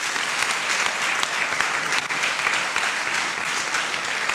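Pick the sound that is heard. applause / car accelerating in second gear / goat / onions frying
applause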